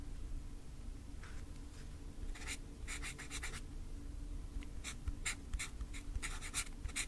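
Short bursts of keystrokes patter on a keyboard in quick irregular clusters, light and close, over a steady low room hum with no voices.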